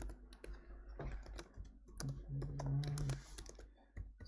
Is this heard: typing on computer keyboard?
yes